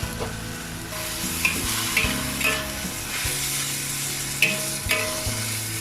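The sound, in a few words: stir-frying dried tofu and chayote shoots in wok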